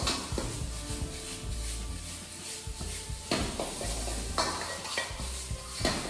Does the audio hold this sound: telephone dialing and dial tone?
no